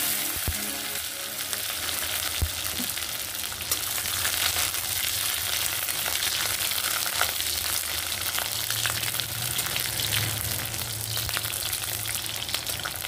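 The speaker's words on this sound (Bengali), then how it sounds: "রসুনটা একটু লাল লাল করে ভেজে নিয়েছি।" Garlic browning in hot oil gives a steady, close sizzle with small crackling pops throughout, without any talking.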